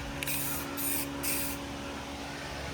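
Spray gun laying clear coat onto Honda Civic Si FA5 side skirts, three close hissing bursts of about half a second each over a steady background hum.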